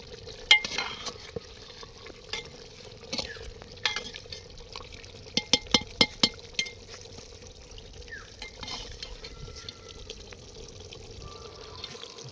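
A spoon stirs handi chicken in a pot with intermittent scrapes and a quick run of sharp metallic clinks, all over a quiet simmer close at hand.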